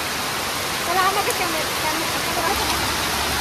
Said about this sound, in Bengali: হেভি জোরে বৃষ্টি হচ্ছে।